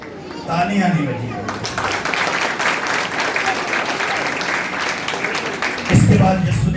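Church congregation breaks into loud, dense applause mixed with crowd noise, with a voice speaking briefly before and after the clapping.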